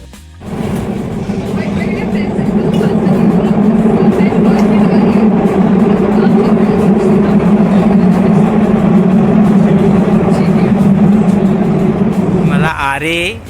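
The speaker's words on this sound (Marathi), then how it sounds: "JVLRला घेऊन आलं आहे मेट्रोनी." A metro train runs near the JVLR, giving a steady, loud rumbling drone for about twelve seconds from start to near the end, heard as if from on board.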